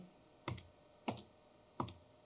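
Keyboard keys pressed while commands are entered at a light board studio workstation, three separate sharp clicks spaced roughly half a second apart, close and clear against a quiet background.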